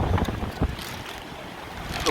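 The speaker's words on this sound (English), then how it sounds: "it's really, really windy" Strong wind buffets the microphone on the Isle of Wight coast during a wild-camping coastal hike, a loud, gusty roar with sharp bursts near the start.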